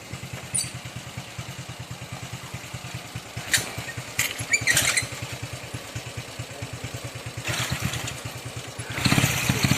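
A Honda Wave 100s motorcycle engine with a stuck piston runs close by in a rapid, uneven clattering putter, with a few sharp knocks and a brief rise in revs near the end.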